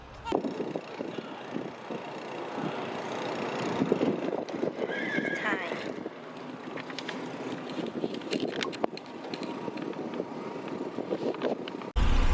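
Horse neighing amid a busy rodeo with horses on concrete, a whinny rising over steady crowd noise and hoof clatter, with talk in the background.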